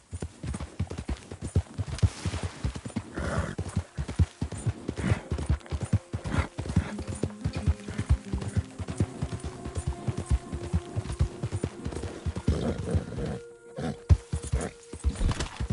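Horse hooves clip-clop steadily on the ground in Red Dead Redemption 2, a close, rhythmic walking gait with a brief neigh-like snort, no talk over it.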